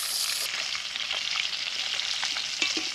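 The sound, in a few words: koi fish pieces frying in oil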